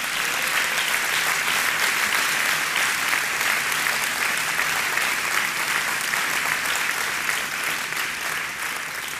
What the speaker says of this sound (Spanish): ¿No le da un fuerte aplauso al Señor esta noche?